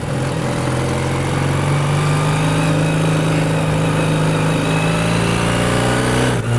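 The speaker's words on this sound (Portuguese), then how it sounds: "o som ronco dessa moto é incrível" A 1984 Honda CB400 cafe racer motorcycle runs steadily nearby, its engine producing a loud, continuous rumbling drone with a slight rise in pitch toward the end.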